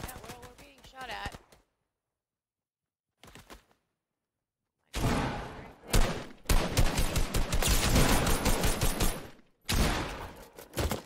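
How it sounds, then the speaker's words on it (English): Rapid gunfire in Fortnite Season 4 fires on players, arriving in dense crackling bursts after short gaps of quiet and sustained loudly toward the end, with voices talking. "Yeah, well, we're being shot at."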